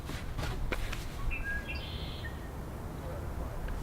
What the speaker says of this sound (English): And if you just listen to the birds, it's beautiful.